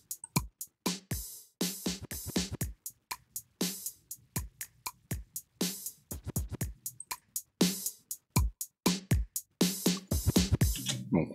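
Soloed drum bus from a mix playing back with the Lifeline Console plugin bypassed: a dry, punchy pattern of kicks, snares and hats hitting in a steady groove with sharp gaps between hits.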